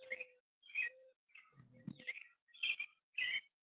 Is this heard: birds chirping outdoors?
yes